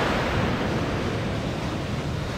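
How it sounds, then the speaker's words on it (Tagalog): Strong sea waves on a beach roar in a steady, loud, unbroken wash of surf, with wind buffeting the microphone throughout. "Lakas ng alon, bumabaon yung paa mo sa ilalim, hindi matigas."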